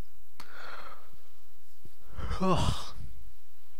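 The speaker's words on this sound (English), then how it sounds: "Sorry for the yawn" A single human yawn, a drawn-out breathy exhale that rises into a voiced groan and then fades, close and fairly quiet over near silence.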